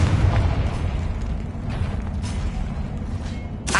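In the video game Hogwarts Legacy, the Confringo blasting spell produces a loud, rumbling boom that sustains for a few seconds, with faint crackles scattered through it and a sharper burst at the very end.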